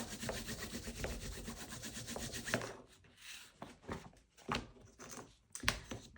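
Paper is rubbed down by hand onto cloth for an accordion-fold book binding, giving close, scratchy rubbing strokes that run steadily and then turn into several separate swipes, fairly quiet with no talking.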